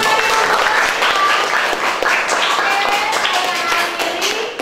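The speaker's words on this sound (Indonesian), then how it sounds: "Tepuk tangan dulu ya." A class of school students in an Indonesian lesson claps together, loud, close and continuous, with sharp individual hand claps standing out and some voices mixed in.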